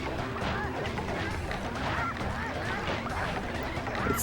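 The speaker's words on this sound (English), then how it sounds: "fighting these freaking bomb-toting roosters just to whack some chickens" Chickens and bomb-toting roosters in the Sly Cooper video game Thievius Raccoonus squawk and cluck in a dense, constant flurry, with crashes and game effects mixed into a loud, busy soundscape.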